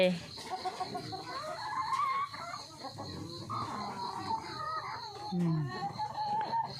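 Chickens cluck and mutter nearby in a steady, overlapping chatter, with a person's voice mixed in at times.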